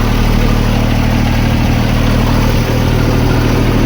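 A tractor engine idles on a village farm during the rainy season. It gives a loud, steady, close diesel chug with a constant low throb and no clear rise or fall.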